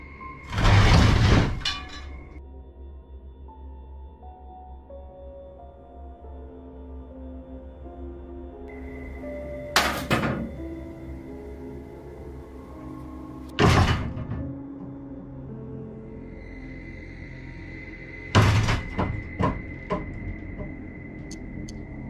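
Wardrobe doors banging hard in a room, four loud separate crashing thuds spaced several seconds apart, with lingering rattles and a droning tone between them.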